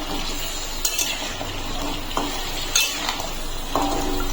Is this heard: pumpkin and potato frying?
yes